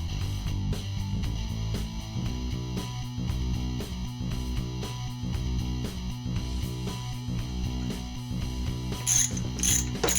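Ratchet clicking steadily as bolts are snugged down on a power steering pump for a 1974 Chevy Monte Carlo, rapid repeated pawl clicks close up with a brief metallic jingle near the end.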